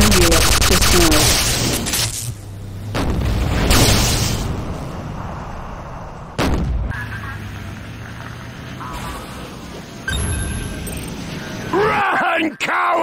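Explosions and gunfire in the video game Renegade, rapid bursts and sharp blasts layered over constant battle noise, with announcer-style voice lines playing throughout.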